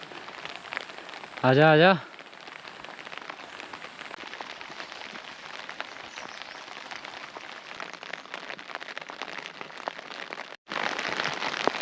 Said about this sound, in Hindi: बट फिर कॉन्टीन्यूस बारिश हो रही है यहाँ पे